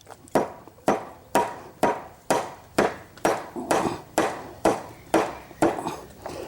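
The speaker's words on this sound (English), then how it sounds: "I use the edge of the hammer." Repeated sharp taps with the edge of a hammer on wood, about a dozen evenly spaced strikes with short ringing decays, close and fairly loud.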